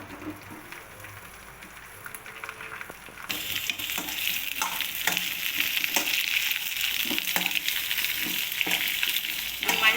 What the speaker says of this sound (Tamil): எல்லாமே மொத்தமாக போட்டே நம்ம வதக்கிடலாம். நல்லா வதங்கட்டும்.